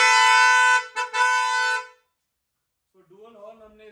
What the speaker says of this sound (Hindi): डुअल हॉर्न हमने इसके ऊपर यूज करे जो कि क्रेटा के होते हैं जेन्युइन।